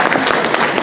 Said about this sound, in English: let's first give a big round of applause to the amazing staff and volunteers here at Fan Expo